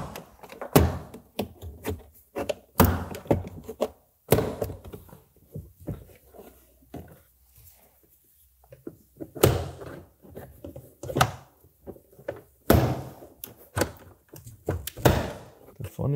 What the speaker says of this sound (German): Damit ist die Türe jetzt entschraubt und wir können sie wegklippen.